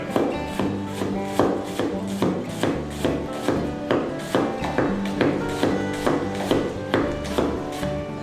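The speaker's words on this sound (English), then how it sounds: "Rock your knife, slide it through." A chef's knife rocks through onion on a cutting board in a steady, even rhythm of crisp chops, about two per second, close and clear with no talking.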